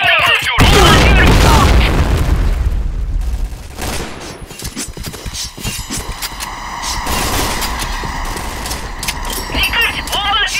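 Booming grenade blasts and gunfire fill a Point Blank shooter match, a heavy loud explosion at the start followed by rumbling bursts and crackling shots, with players talking over the chaos.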